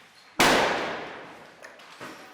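During a street clash, protesters throw a homemade bomb at police, who answer with tear gas. One sharp, loud blast cracks out and decays slowly, and a couple of fainter pops follow in the distance.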